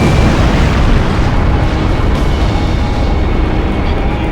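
Explosions at a Belkan military facility in Ace Combat Zero, a dense, loud, continuous roar of booming blasts filling the whole stretch.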